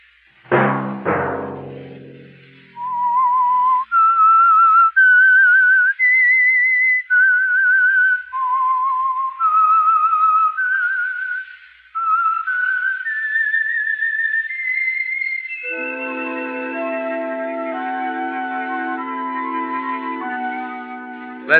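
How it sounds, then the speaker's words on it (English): A melodic signature whistle from The Whistler, a Signal Oil mystery radio program, rising and falling through a long solo phrase before orchestral chords swell in beneath it. "Let that whistle be your signal for the Signal Oil program, The Whistler"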